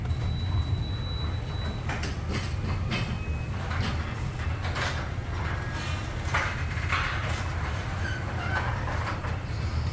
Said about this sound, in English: The garage door opener is plugged in.